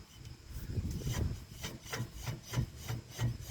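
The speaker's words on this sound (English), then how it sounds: "So you can still hear it rubbing," A sticking brake pad rubs against a rotor, giving a rough, repetitive scraping with a steady wheel-turn rhythm, close and fairly quiet, with no talk.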